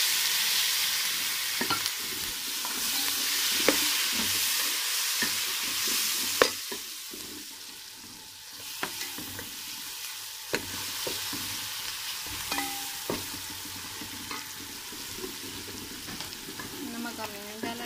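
Red chili, turmeric and tomatoes sizzle in a masala for chana pulao while a spoon stirs and scrapes the pan, giving a steady frying hiss broken by sharp clicks and scrapes.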